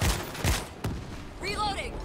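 Army auto turrets in World War Z: Aftermath firing a couple of loud, close bursts in quick succession, followed by a voice speaking.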